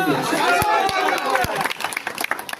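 A crowd claps at an outdoor corner election rally in Kopargaon for a local MLA; a loud amplified voice speaks first, then scattered, busy applause rises and carries on.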